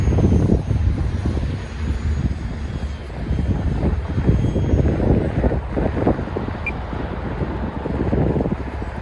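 An E-flite Habu STS RC jet plane whooshes overhead in flight, a steady rushing engine roar mixed with gusty wind buffeting the microphone, fairly loud and continuous.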